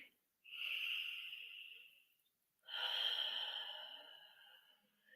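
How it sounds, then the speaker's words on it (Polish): Two long, deep breaths in a calm meditation setting, each a soft airy rush lasting about two seconds, separated by a short pause, close and alone. "I teraz weź jeszcze na koniec głęboki oddech."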